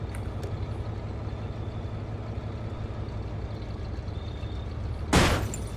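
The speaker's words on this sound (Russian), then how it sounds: "Блин, шумная машина." A noisy car engine rumbles steadily in the State of Decay video game at night, a continuous low drone with a brief sharp hiss-like burst near the end.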